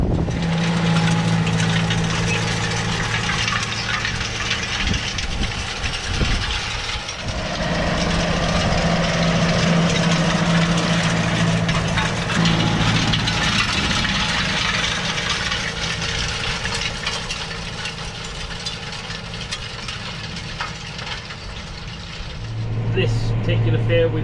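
A farm tractor idles steadily throughout on a hot afternoon while preparing to drill winter barley, its low, rough engine note holding even and close with small shifts in tone.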